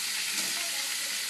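Onions sautéing in a pan for urad dal chutney give a brief, even, soft sizzle heard close up without stirring strokes or voices.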